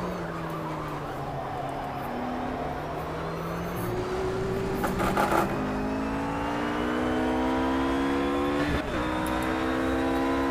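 A Porsche GT3 engine in the racing game Project Cars climbs through the revs in a loud, steady drone, with rising pitch sweeps broken by quick gear shifts and a brief rougher burst midway.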